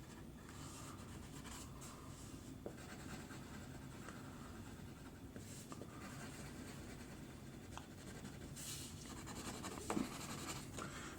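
A crayon is rubbed thickly across paper to make a watercolor resist, giving a faint, continuous, close-up scratchy scribble with small taps and strokes throughout.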